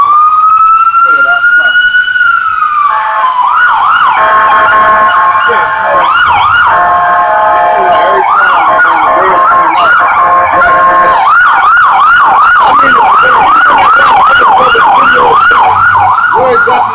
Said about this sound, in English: Goddamn ambulances constantly going up and down the block, man.